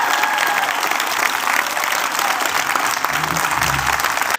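Loud, sustained applause from a large audience after an announcement about protecting prayer in public schools, steady clapping filling the whole stretch before cutting off abruptly at the end.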